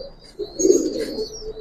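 Pigeons in a loft of Giribaz and colored breeds give a short low coo, fairly close, over faint background chirps and noise, with no talk.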